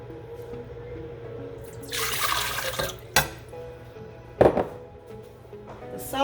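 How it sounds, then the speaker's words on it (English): Hot water pours from a tap into a KitchenAid mixer bowl for bread dough, a loud rushing splash of about a second followed by clinks and a second short gush against background kitchen hum. "KitchenAid mixer, I'm going to go ahead and throw in hot water."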